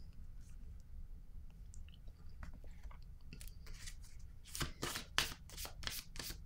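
Tarot cards shuffled and drawn by hand: soft papery rustles and light slides, then a louder cluster of quick riffling flicks near the end, close and quiet with no talk.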